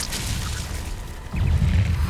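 A Confringo fire spell in the video game Hogwarts Legacy, a single muffled whooshing blast with a low rumbling burst in the second half, following quieter game ambience.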